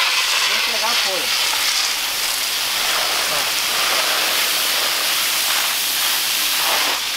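A motorised sprayer blasting water onto freshly harvested radish bunches and their leaves, a loud continuous hissing spray that holds steady throughout, with faint voices beneath.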